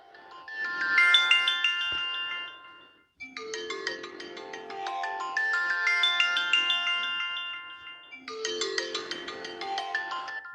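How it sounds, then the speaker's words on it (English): A mobile phone ringtone plays a bright repeating melody in three bursts with short gaps, moderately loud and close, heard on a farm while logs are cut into rounds, with no talk. "Oh, my phone is ringing."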